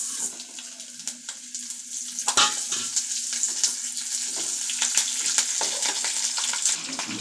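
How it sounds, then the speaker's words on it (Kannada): Mustard seeds, curry leaves and green chillies crackle and sizzle in hot oil for tempering, with a steady fizzing hiss, scattered sharp pops and some stirring clatter, close up and without speech. "ಒಗ್ಗರಣೆಗೆ ಎಣ್ಣೆ ಬಿಸಿಯಾಗಿದೆ. ಸಾಸಿವೆ, ಕರಿಬೇವು, ಹಸಿಮೆಣ್ಸಿಕಾಯಿ ಎಲ್ಲ ರೆಡಿ ಮಾಡಿ ಇಟ್ಕೊಂಡಿದ್ನಲ್ಲ, ಅದನ್ನ ಹಾಕ್ಕೊಂಡಿದ್ದೀನಿ"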